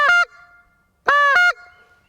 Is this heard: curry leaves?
no